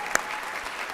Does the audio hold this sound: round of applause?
yes